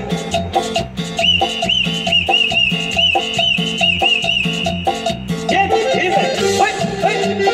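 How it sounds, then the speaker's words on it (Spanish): A person whistles a lively tune in sustained, clear notes over a rhythmic musical backing. "Ahora vamos a chiflarla."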